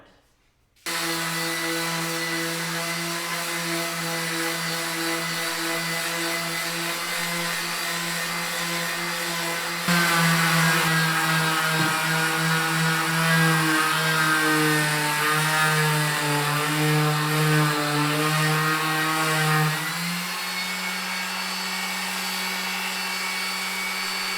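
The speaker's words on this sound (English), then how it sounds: "So I'm going to go ahead and start sanding this down so we can get that primed." An electric sander drones steadily on a car body panel for over twenty seconds, its motor hum growing louder and rougher partway through before settling again.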